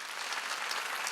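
A church congregation at a Wednesday worship service claps together in a dense, steady burst of applause that fills the whole brief moment at moderate volume.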